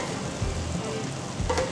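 Balls of puff-puff dough fry in hot oil, giving a soft, steady sizzle with a few brief bubbling bursts and faint stirring noises, all quiet and close.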